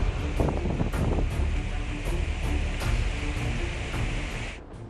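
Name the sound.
strong wind of Cyclone Amphan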